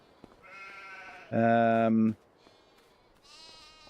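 Sheep in the Farming Simulator 25 video game bleat loudly in a single drawn-out call in the middle, with fainter higher bleats before and after it, while someone talks over them.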